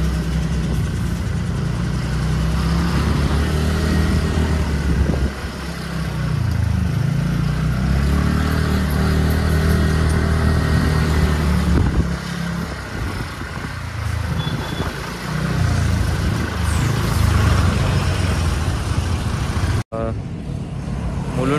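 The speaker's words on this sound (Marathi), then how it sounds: "घोडबंदर रोडवरून ठाण्याच्या मार्गावरून खूप ट्रॅफिक आहे" Heavy night traffic on Ghodbunder Road toward Thane, with container trucks, cars and motorcycles rumbling past steadily, a continuous loud roar of engines up close that holds for about twenty seconds, then briefly drops out.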